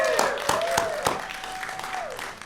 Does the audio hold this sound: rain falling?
no